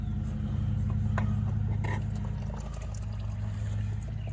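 Motor oil pours steadily from a removed oil filter on a Hustler mower into a drain pan, a continuous close liquid stream over a low engine-like rumble, with no talking.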